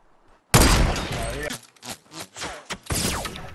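In a Fortnite match, an enemy player's gunfire erupts abruptly and loudly, a dense burst of shots followed by several separate sharp reports and another rapid volley near the end, with game noise and faint voices around it.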